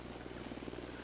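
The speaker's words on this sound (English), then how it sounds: "Drone is airborne." A drone in the Ghost Recon Wildlands video game hums steadily with a buzzing rotor drone, continuous and fairly faint, with no talk over it.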